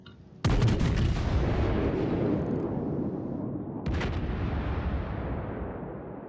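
Battleship main guns fire a salvo in the naval game World of Warships: a sudden loud blast with a long rumbling roll, then a second boom a few seconds later over the lingering rumble.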